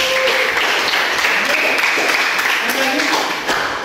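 Dense applause fills a classroom, a steady wash of many hands clapping with voices murmuring underneath, easing off slightly toward the end.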